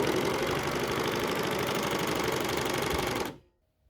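An overlocker serger finishing a T-shirt sleeve runs in one loud, continuous, rapid mechanical chatter, close up, for about three seconds before stopping abruptly into silence, with no speech.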